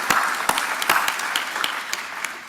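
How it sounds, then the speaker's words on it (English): Steady applause from a gathered audience at an adult learning celebration in the Senedd, a dense wash of clapping with a few sharper claps standing out, moderately loud and continuous without talk. "a round of applause to all the learners"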